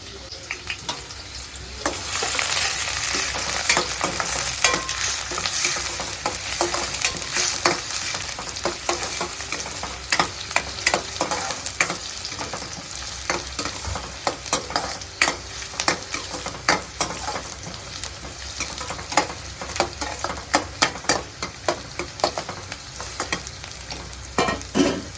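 Onion and curry leaves frying in hot oil in a home kitchen while cooking papaya bhaji, a steady close sizzle with crackling pops and stirring throughout.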